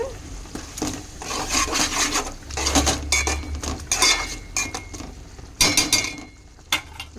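A metal spoon scrapes and clinks against a pan as ginger garlic paste is stirred into half-fried cauliflower and chana dal curry, the irregular scraping strokes close and fairly loud.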